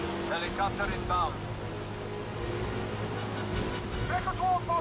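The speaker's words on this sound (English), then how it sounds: "Helicopter inbound." A helicopter closes in during a Blood Stone 007 video game battle: a steady, low rotor drone holds throughout, with voices shouting over it at the start and end.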